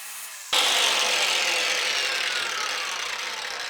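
An angle grinder bites into a tile corner after a quiet moment, a loud hissing, gritty whine that holds steady and slowly fades over several seconds.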